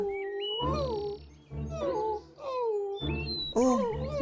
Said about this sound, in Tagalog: Uy, teka! May tuta!